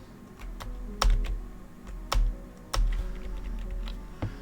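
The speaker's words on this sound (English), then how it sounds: "I'm sorry, by the way, for the keyboard sounds" Close computer keyboard typing during strategy-game play, with scattered clacking keystrokes and several heavier thumps, likely the spacebar, at irregular intervals over a constant low hum.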